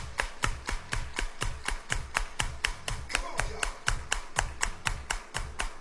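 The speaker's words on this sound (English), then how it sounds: "Everybody clap your hands." A crowd at a high school baseball game, James Clemens vs. Austin, claps in a steady, even rhythm of loud, regular beats, with a voice briefly calling out over it.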